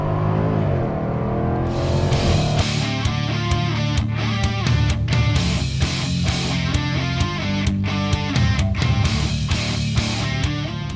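A 2018 Jaguar F-Type SVR Coupe accelerating hard in sport performance mode, its engine note rising loudly through the revs with sharp gearshift breaks and crackling pops, heard from inside the car.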